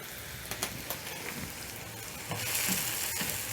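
Tomatoes with onions cook in a frying pan, giving a soft, close crackling sizzle with a few light clicks, swelling a little louder toward the end.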